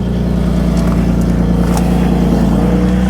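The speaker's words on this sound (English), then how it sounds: "test out the transmission, give her a couple of revs." A 2002 Lexus IS300 with a swapped 2JZ engine and an aftermarket exhaust runs loudly with a deep steady throbbing rumble, close by, with no talk over it.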